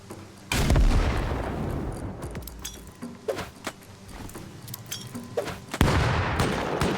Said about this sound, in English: Oh, yep, there's a turret right there.